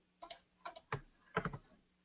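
Someone typing on a computer keyboard during a PowerShell and SQL Server demo, a handful of close, crisp key clicks in short bursts with gaps between.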